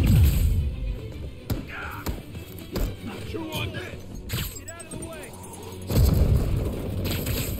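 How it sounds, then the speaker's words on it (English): Stun grenades go off in the video game Spider-Man Remastered as several sharp booms and bangs scattered among mechanical clatter, with a voice talking over the action. "Thank God they only use stun grenades."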